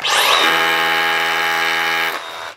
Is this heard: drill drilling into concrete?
yes